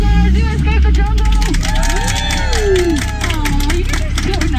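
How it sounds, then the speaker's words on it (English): Passengers aboard a Disneyland Jungle Cruise boat clap and cheer in a steady burst of applause, close and lively, mixed with a guide's voice talking over the crowd. "Give yourself a round of applause. You escaped the jungle."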